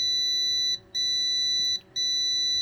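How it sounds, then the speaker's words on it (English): An egg incubator alarm sounding after its lid is opened: a continuous high electronic tone that cuts out briefly twice, steady and fairly loud over a faint background. "the noise in the background is just the alarm, because of course when I open the incubator, air moves out"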